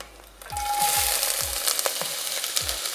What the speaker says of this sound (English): So I've heated some oil up, and we're going to add some onions.